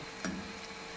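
Oil poured into mutton karahi in a pan gives a brief burst of sizzling, then a steady soft frying hiss for the rest of the short moment, with no voices.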